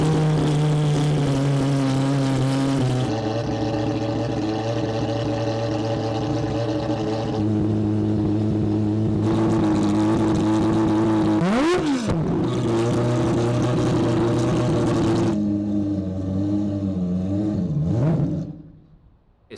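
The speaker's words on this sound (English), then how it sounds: "I'm gonna warm the car up and then do another launch" A four-rotor rotary engine car warms up and launches, loud droning engine with stepped revving and quick pitch sweeps up and down, close and continuous before cutting off at the end.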